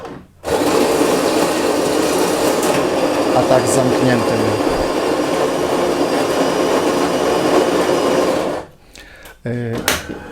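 A De'Longhi Magnifica bean-to-cup coffee machine grinds beans with a steady, loud mechanical whir for about eight seconds, then stops abruptly; a brief spoken remark follows as it ends.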